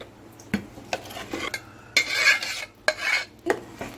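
Dal being stirred in a pan with a spoon or ladle, giving a few scraping, clinking knocks against the metal, close and moderately loud, with a longer scrape near the middle; no talking.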